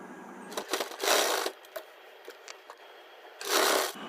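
A sewing machine stitches the hem of a four-panel petticoat in short bursts, close and fairly loud, with quiet pauses and small clicks of handling between runs.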